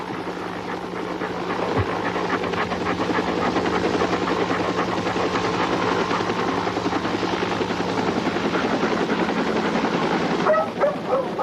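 Police dog barking at a garage door during a search, repeated barks heard under a loud, steady helicopter rotor drone that dominates throughout.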